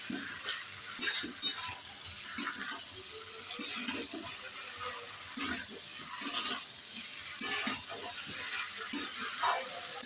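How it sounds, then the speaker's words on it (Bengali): Cauliflower and potato pieces stirred and fried with spices in a pan, with a soft sizzle under repeated scraping and stirring knocks at an irregular rhythm, fairly close. "ফুলকপি আলুটা দিয়ে ভালো করে কষাতে হবে।"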